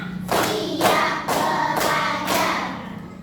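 A classroom of pupils claps together on a teacher's cue, five loud, sharp group claps spaced roughly half a second apart, each a broad burst with a brief tail, with no talking over them.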